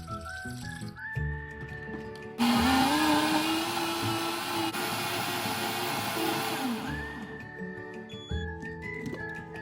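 Blender whirring loudly as it purees soaked dried chilies with water into a chili paste, a steady roaring grind for about five seconds between quieter stretches of kitchen sound.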